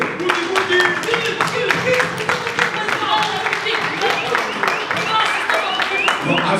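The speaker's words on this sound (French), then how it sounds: "Signifiez-le par les acclamations s'il vous plaît." Acclamations and applause at an extraordinary general assembly of a Congolese musicians' union, with irregular rhythmic clapping from a crowd mixed with cheering voices and talk, moderately loud and continuous.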